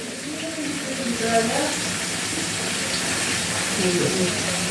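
Tap water runs steadily into a teapot for brewing tea in a home kitchen during iftar preparation, a continuous close splashing hiss lasting the whole stretch with no talk over it.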